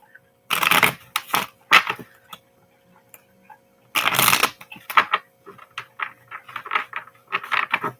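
Tarot cards are riffled and shuffled close up in two quick bursts, followed by softer flicks and taps as the deck is handled.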